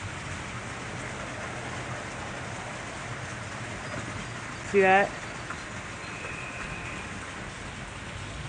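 Heavy rain pours steadily on a porch during a tornado-warned thunderstorm in Robertson County, Tennessee, a dense continuous hiss throughout, with a brief spoken remark midway.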